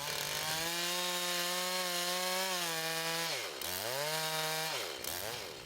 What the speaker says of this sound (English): Start to cut part of your pie. Watch your kerf and feel the pressure on the sides of your bar.